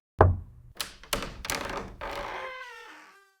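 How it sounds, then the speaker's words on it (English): Several knocks on a church office door, a sharp first rap followed by a few more irregular thuds with some ringing decay, fairly close and alone without talk. "A knock at the door."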